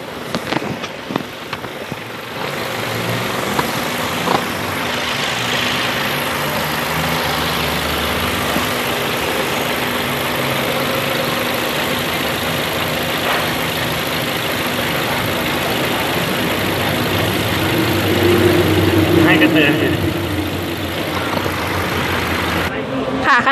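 A Honda CR-V with a jerky transmission runs on a test drive after an additive is put in, its engine and road noise forming a loud, steady drone throughout.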